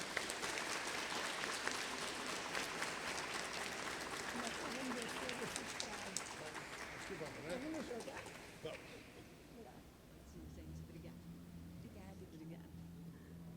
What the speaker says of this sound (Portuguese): Os palmas são para você, Gisele.